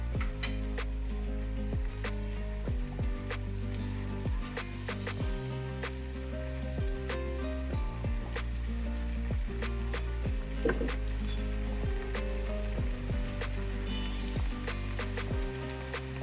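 Ginger and garlic frying in oil for vegetable biryani, a steady close sizzle with crackling pops and repeated utensil clinks and scrapes throughout, no talking.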